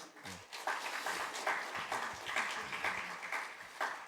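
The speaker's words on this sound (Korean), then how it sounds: "여러분 먼저 박수 한번 하겠습니다" Scattered clapping from a group, uneven and moderately close, building into a brief round of applause.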